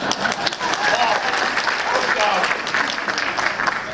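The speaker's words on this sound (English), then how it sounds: "I've never been applauded before like Diane" Theater audience applauding at a presentation, dense and steady clapping filling the whole stretch at close range, with a voice faintly audible beneath it.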